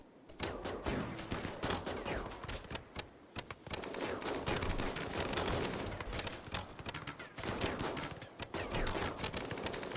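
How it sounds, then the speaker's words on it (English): Dense, continuous gunfire from a battle in the video game Rimworld, overlapping rapid shots and bursts throughout at loud, even level, with no talk. "Just as the shooting starts"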